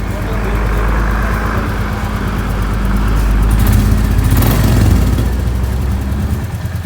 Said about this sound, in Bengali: ট্যাবিট অ্যাডজাস্ট করার পরে আপনারা সাউন্ডটা দেখতেই পাচ্ছেন, কত সুন্দর একটা সাউন্ড আসছে।